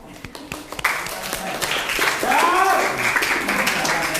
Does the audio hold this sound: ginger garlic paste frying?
no